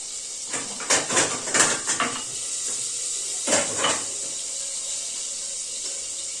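Dishes being washed in a kitchen sink under a running tap: a steady hiss of flowing water with bursts of clattering pots and utensils, loudest early on and then again briefly.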